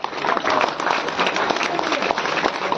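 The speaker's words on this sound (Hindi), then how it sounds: "आज हम यज्ञकर्ता के लिए तालियां बजाएंगे जोर से सभी" An audience at a temple gathering claps for the yajna performer, a dense, sustained wash of applause with voices faintly mixed in.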